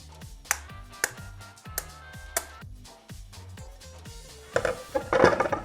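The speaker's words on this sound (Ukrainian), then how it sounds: "І розбиваємо це яєчко" Several sharp clicking taps of a knife against an eggshell, spaced out over background music, followed by a brief crackle.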